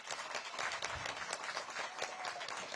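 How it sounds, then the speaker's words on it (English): A room full of people at a senior budget forum in a wellness center applauds, a dense patter of many hands clapping steadily for a few seconds at moderate volume. "Let's give him a round of applause."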